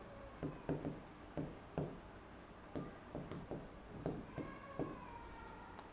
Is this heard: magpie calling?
no